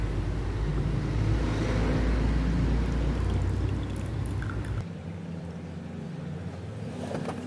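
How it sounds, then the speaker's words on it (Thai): Hot water pours steadily over mulberry leaf and jasmine tea in a continuous splashing rush for several seconds, then stops, leaving a quieter background. "เทน้ำลงไปนะคะ"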